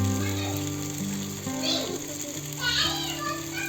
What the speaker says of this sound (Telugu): ఈ విధంగా అన్ని ఫిష్ ముక్కలను కూడా ఇలా ఫ్రై చేసుకుందాం ఫ్రెండ్స్